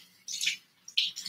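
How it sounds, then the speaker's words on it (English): Tap water running into a kitchen sink, two short soft bursts of splashing flow with a brief pause between, faint and close. "I'm going to get the water hot in here."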